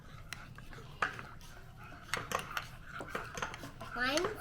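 A spoon stirs a hot chocolate bomb in a mug, giving soft, scattered clinks and taps against the cup, quiet and close, while young children and adults chatter softly around it.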